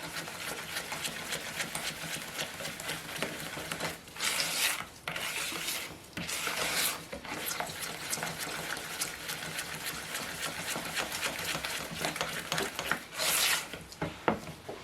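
A spatula scrapes and stirs thick body polish in a bowl, a continuous close rubbing and rasping with a few louder scraping bursts, no talking.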